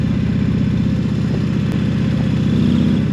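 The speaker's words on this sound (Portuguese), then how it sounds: "Vou agora pôr aqui o escape mais silencioso um bocadinho." A 2022 Indian Challenger Dark Horse motorcycle runs steadily with its exhaust set to a quieter mode, giving a continuous deep, throbbing engine drone with a low pulsing rumble and no speech.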